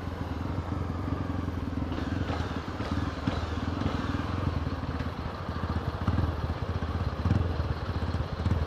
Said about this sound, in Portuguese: não sei que moto é essa aqui na frente, tá ligado? Mas tem dois escapamentos